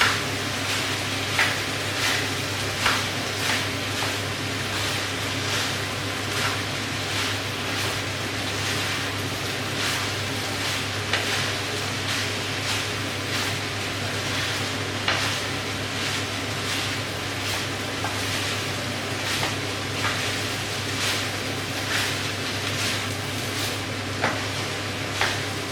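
Nigerian fried rice being stirred in a pan, a steady sizzling fry broken by regular scraping stirs close by, with no talking.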